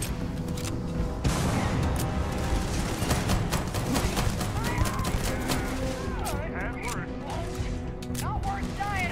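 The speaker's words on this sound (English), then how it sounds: "Explosions!" Gunfire and explosions in the space game Starfield, a dense run of rapid shots and crashing blasts filling the whole stretch, with a voice talking over the action.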